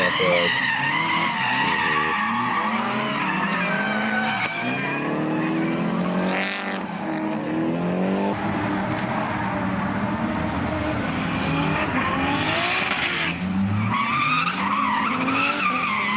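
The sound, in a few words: race car driving around track, tires skidding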